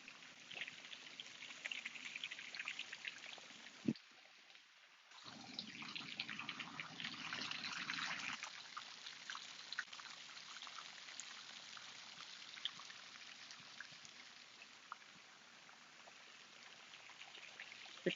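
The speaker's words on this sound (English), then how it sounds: "you can hear the beautiful waterfalls" Steady water rushing from beautiful waterfalls at an outdoor gathering, a constant broadband wash with a brief dip partway through, faint and continuous with no talk.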